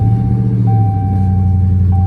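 A damaged widebody Dodge Charger Scat Pack with the 392 engine runs close by, a steady, loud, low idle rumble accompanied by a repeating electronic warning tone.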